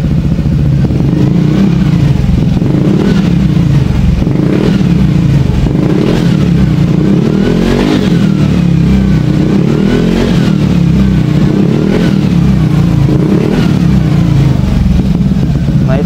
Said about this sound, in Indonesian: mungkin kita mau agak teson untuk suara knalpot di idle atasnya itu teman-teman